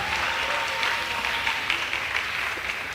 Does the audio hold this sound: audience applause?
yes